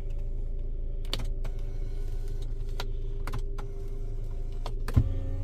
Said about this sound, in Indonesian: udah pasti elektrik, naik turun setirnya